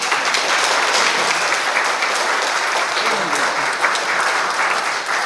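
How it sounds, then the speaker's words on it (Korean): A church congregation claps warmly to welcome a preacher to the front, a continuous, even round of applause at full volume with no break for the whole stretch. "나오실 때 우리 큰 박수로 환영하겠습니다"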